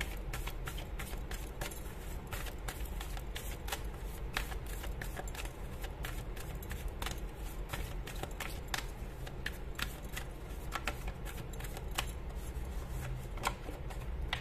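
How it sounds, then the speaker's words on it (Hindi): A deck of tarot cards is shuffled nearby in a continuous rapid riffle of light papery flicks and snaps that runs steadily throughout, with no talk. "और मैं शफल कर रही हूँ"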